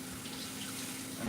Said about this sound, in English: Just gonna wash it in the sink, make sure it's clean